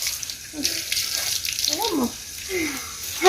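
Water runs from a tap into a sink while a child's face is washed, a steady wash under a few brief close voices talking.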